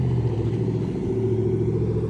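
Cars pass along a road in a steady, continuous low rumble of traffic noise, fairly close, with no speech.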